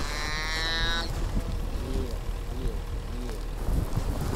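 Cow lowing out in the open steppe after giving birth to a calf, a long moo at the start followed by softer low calls, with wind noise and people talking nearby.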